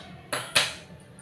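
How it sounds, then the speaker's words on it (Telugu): Cooking pot set down on a gas stove in a home kitchen while making palakura pappu, two quick metallic clanks in succession, close and clear. "నెక్స్ట్ ఒక గిన్నె పెట్టుకుందామండి."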